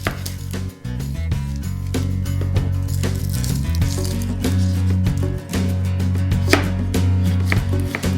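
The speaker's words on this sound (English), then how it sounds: "I cut the onion into really, really tiny little pieces" A knife chops onion into tiny pieces on a board for Bavarian bread dumplings, a steady, rapid run of close, crisp cuts that continues without pause throughout.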